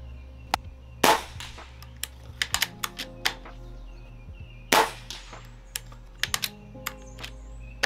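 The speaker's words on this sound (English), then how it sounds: "We're gonna shoot the best group that we possibly can." Air rifle shots at a paper target, fired through a scope at nine power: two sharp, loud cracks several seconds apart, each followed by smaller clicks and clatter of the gun being handled.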